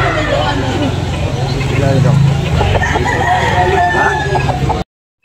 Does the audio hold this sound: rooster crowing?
yes